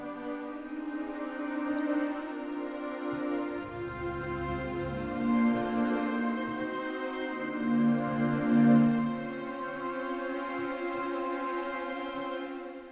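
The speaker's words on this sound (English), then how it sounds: "Just one of my favorite soft string patches." A soft, sustained string patch from a Fluffy Audio sample library swells and ebbs gently with slow, layered chords, moderately quiet and alone.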